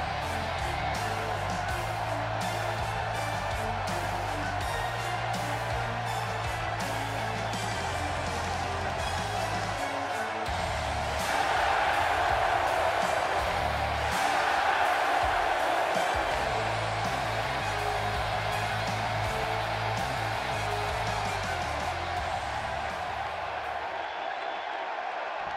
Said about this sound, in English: Clearly, this SmackDown crowd can't wait for this one to get started.